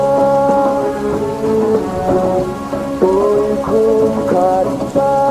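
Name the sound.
rain falling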